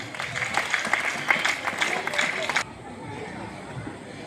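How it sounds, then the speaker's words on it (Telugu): Audience clapping to welcome a guest at a church Vacation Bible School celebration in Kondapalli, a dense round of applause from a crowd that breaks off sharply partway through, leaving quiet room tone. "అంకుల్కి క్లాప్స్ కొడుతూ ఇన్వైట్ చేద్దాం"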